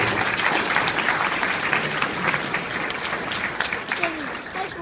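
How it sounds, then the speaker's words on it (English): A crowd at a ceremony applauds the band, dense steady clapping with a few voices underneath that holds at an even level throughout. "Big round of applause for the band."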